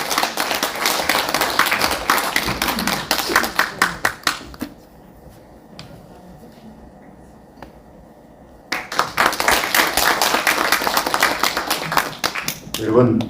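Audience applause at a symposium marking the 75th anniversary of the Korean War: dense clapping fills the room, breaks off into a few seconds of near-quiet, then swells again into a second sustained round.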